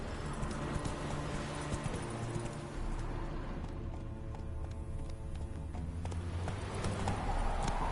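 Roach, the horse in The Witcher 3, gallops in a steady rhythmic clip-clop of hooves over a continuous low game soundscape, close and fairly loud with no talk.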